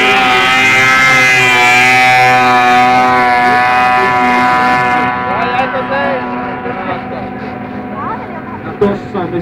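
Snowmobile racing across open water in a watercross event at Sodankylä, its engine whining loudly at high pitch and then fading as it moves away, with a crowd and a commentator's voice in the background.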